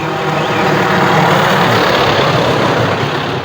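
A heavy vehicle rumbles past on a rural road, a broad, loud roar that swells and holds close by, then eases slightly, with no talking over it.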